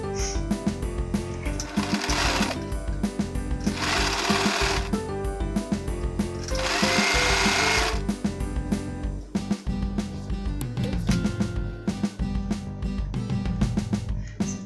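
A sewing machine stitches a fleece blanket with sleeves on the reverse side, rapid mechanical clatter running in bursts with short pauses between seams, close and steady, no speech.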